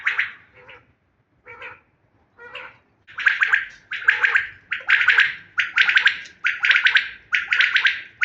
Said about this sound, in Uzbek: Jonivorlar hammasi sayrayapti.